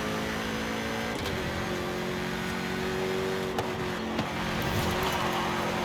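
Steady engine drone of a Jaguar SVR sports car being driven in Forza Horizon 5, holding a constant pitch with faint clicks, no talking.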